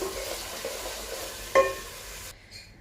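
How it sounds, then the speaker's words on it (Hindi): Tomatoes and spices sautéing in a pan for a Muradabadi mutton yakhni pulao, a steady soft sizzle with stirring, one brief louder scrape of the spoon, then the frying fades near the end. "चलिए अब इन सभी को अच्छी तरह से भून लूँगी मैं, अच्छी तरह से सॉफ्ट होने तक टमाटर"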